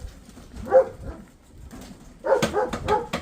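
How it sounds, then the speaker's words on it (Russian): Dogs on a property give a few scattered barks and yips, moderately close, with a burst of louder barking near the end. "Собаки, блядь, додому."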